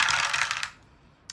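Three six-sided dice rolling and rattling together on a surface: a bright burst of clattering for about half a second, then near quiet before a single final tap.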